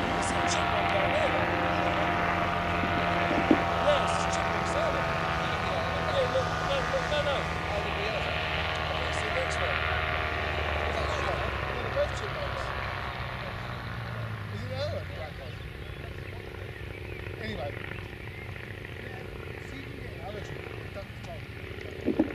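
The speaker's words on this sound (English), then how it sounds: "Well, the Martlet doesn't have one, so in flight you just have to hold Martlet. I think it's just coming into land now." An Edwardian Martlet vintage aircraft drones in to land, its engine note steady and then fading away, while people talk over it nearby.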